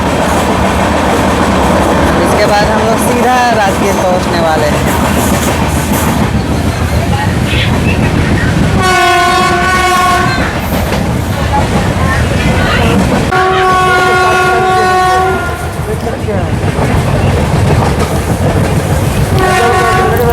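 A goods train rumbles and clatters past at close range, heard from aboard a passenger train crossing it between Patna and Rajgir, India, with repeated loud horn blasts over the steady roar while a voice speaks underneath.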